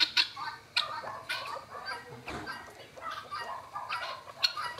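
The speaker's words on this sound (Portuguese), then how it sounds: "Ali tem uma galinha da Angola meio agitada ali." An agitated helmeted guineafowl gives repeated sharp, scratchy clucks and rattling calls at a rural farm at dusk, fairly close, in uneven bursts with other fowl faintly around.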